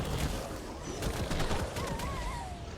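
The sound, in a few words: gunfire from shooting in ARK Survival Evolved video game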